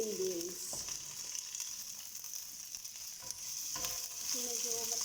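Green beans stir-fry in a pan with onion and garlic, sizzling steadily and close, with a few louder scrapes and tosses of a utensil breaking through the hiss.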